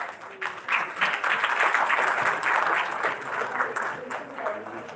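A live audience at a dental college event applauds to welcome a distinguished guest, with a steady wash of clapping from a crowd held at an even level across the moment, blended with a murmur of voices.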